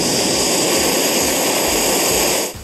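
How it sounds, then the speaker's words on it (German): A propane-butane gas burner torch roars loudly and steadily as a continuous broadband rush, cutting off abruptly at the end. "Und dann zünde ich den Brenner an."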